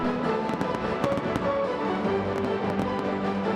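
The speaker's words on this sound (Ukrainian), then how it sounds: "Вдався фінальний феєрверк" A final fireworks display over a stadium on its opening day, with rapid crackling bursts and repeated sharp pops rolling continuously over a dense, loud background rumble.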